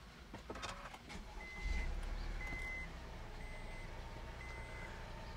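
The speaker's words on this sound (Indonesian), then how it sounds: "aku nyalain dulu mesinnya." Honda S660 small sports car engine kicks over and settles into a low idle rumble, joined by a series of regularly spaced electronic chime beeps from the car.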